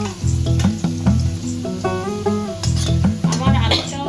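Potatoes fry in hot oil, a steady sizzle with occasional scraping and stirring clatter, while a song with singing plays loudly over the cooking.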